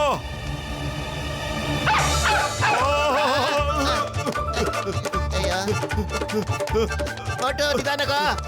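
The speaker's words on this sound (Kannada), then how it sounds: "ಈ ನಾಯಿನ ಬಚಾವ್ ಮಾಡಿ ಸರ್." Cartoon dog barking and yipping amid lively music and animated speech, with repeated short yelps through a loud, busy scene in a Motu Patlu animated episode.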